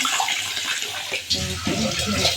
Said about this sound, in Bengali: চালটা ধুয়ে নেবো আগে